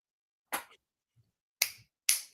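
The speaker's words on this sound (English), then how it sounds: "I can't clap, so I can snap." Three sharp finger snaps, crisp and close, with the second and third coming in quick succession after a pause, separated by near silence.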